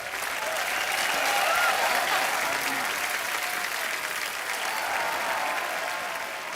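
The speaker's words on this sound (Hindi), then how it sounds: "एक बार जोरदार तालियां" Steady applause from a crowd, continuous and fairly loud for several seconds, with no talking over it.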